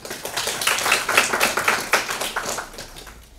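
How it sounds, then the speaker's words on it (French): An audience claps together at a French literary meeting on women pioneers of health, a dense crackle of many hands that is loud and steady for about three seconds before tapering off at the end. "Merci de l'applaudir."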